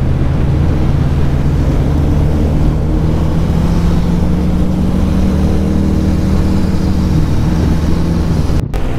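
A Kawasaki Z900 motorcycle accelerates hard in a road race against a Hayabusa, giving a loud, close, sustained engine roar that holds steady with a slowly shifting pitch and no talk over it.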